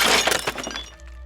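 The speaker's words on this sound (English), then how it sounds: "Renee sees another one shatter to the floor next to him" A porcelain or ceramic art figurine shatters on the floor with a loud, sharp crash, followed by a short scatter of tinkling fragments that quickly fades.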